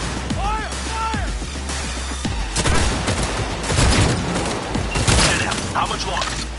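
Sustained gunfire and explosive booms from a firefight in the video game Cyberpunk, with dense overlapping shots building through the clip while voices shout over the battle.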